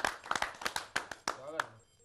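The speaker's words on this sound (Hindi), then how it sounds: "जोरदार तालियों से आप स्वागत करें" An audience at a Hindi poetry gathering claps to welcome a poet: a quick run of close, distinct handclaps with a voice talking over them, thinning out after about two seconds.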